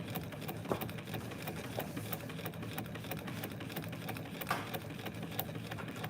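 A sewing machine stitches continuously with a fast, even mechanical patter, close and steady throughout with a few slightly louder knocks.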